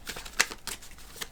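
A deck of tarot cards gets a brief, close riffle, a few quick papery flutters with one crisp snap in the middle, quiet and with no talk.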